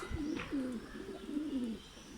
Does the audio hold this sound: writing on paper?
no